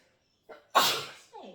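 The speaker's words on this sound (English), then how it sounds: "I'm going to sneeze." A single loud, close sneeze bursts out after a short sharp intake of breath, trailing into a brief exhale.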